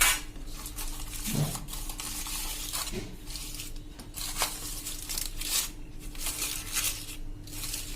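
Homemade cheese is wrapped in silver foil, giving soft intermittent crinkles and rustles at close range in a quiet kitchen.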